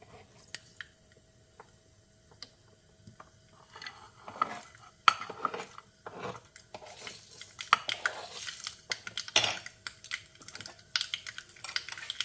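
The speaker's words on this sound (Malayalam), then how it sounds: "ഇനി നമുക്കതിലേക്ക് കടുക് പൊട്ടിച്ചിടണം" Mustard seeds splutter in hot oil in a small kadai while beetroot pachadi is cooked: faint, scattered sharp pops and crackles that grow busier midway, over a quiet background with no talking.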